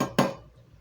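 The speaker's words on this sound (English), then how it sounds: "Do a little stir." A single sharp clink of a utensil against a pot while stirring food on the stove, followed by a quick fading ring.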